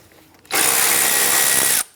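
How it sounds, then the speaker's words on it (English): A 12mm socket on a powered tool loosens and removes a radiator bolt on a 1992-1996 Toyota Camry 2.2L I4, giving a loud, steady whirring burst of about a second and a half that starts and stops abruptly. "Use our 12mm socket to loosen and remove this bolt"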